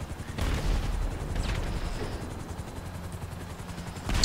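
A helicopter sets down in the video game GTA V, its rotor making a loud, continuous low drone with rumbling bursts throughout and a sharper burst at the very end.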